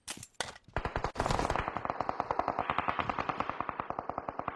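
Rapid automatic gunfire from a video game weapon, a dense burst of sharp reports followed by a steady rattling stream of evenly spaced shots, loud and close.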